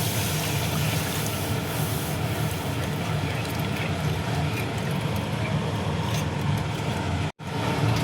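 Hot water pours into fried spice paste and grated coconut in a pan while making khichdi, a loud steady hissing rush of liquid that continues almost unbroken before cutting off briefly near the end.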